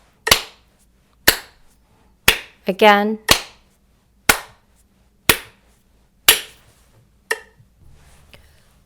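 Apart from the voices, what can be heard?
hand clapping on the beat at 60 bpm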